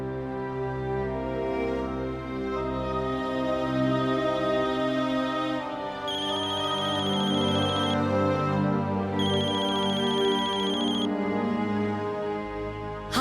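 A phone ringtone plays loudly and alone as a repeating melodic tune with bright chiming bursts over a steady musical bed, continuing for several seconds.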